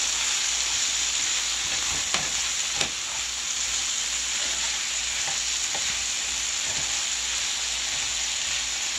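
Sirloin chops, potatoes and onions fry in a pan with a steady, even sizzle close by, and a couple of sharp utensil clicks occur early on.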